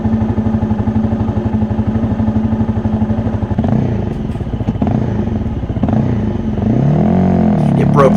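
A Honda CRF250L with a 14-tooth front sprocket accelerates from a standstill to 30 mph off-road, its single-cylinder engine thumping loud and close, revving up through the gears with brief shifts and rising pitch.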